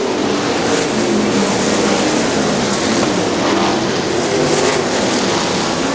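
410 sprint cars race on the dirt track at Butler Battlegrounds in Quincy, Michigan. A continuous, loud, broadband engine roar fills the whole stretch, with only slight swells as the field passes and no talking.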